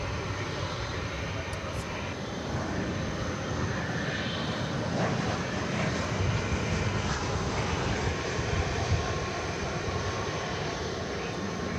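An airliner departing at DFW Airport, heard as a continuous broad engine roar that stays loud and steady throughout at moderate distance.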